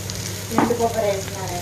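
Eggplant fry with dried coconut powder sizzles steadily in a pan, a close, even hiss with a brief stir-like swell near the middle.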